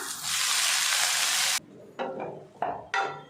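Cleaned ponnanganni greens drop into a hot pan with a loud burst of hissing sizzle that cuts off abruptly, followed by several short bursts of frying as they are stirred, close and without talk.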